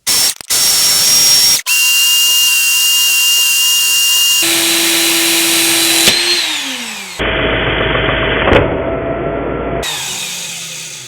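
A knife blade being sharpened on a belt grinder: a loud, continuous grinding whine that runs for about eleven seconds, its pitch and tone shifting abruptly several times as the blade's contact changes.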